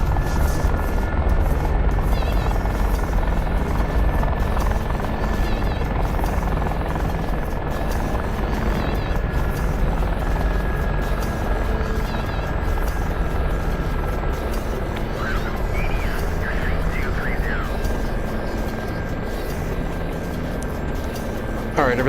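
Apache helicopter in a video game, a loud, steady rotor drone and engine hum filling the whole stretch, with faint radio-like chirps partway through.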